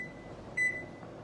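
A kitchen timer being set for noodles gives one short electronic beep over a steady hum, with a faint thin tone lingering around it.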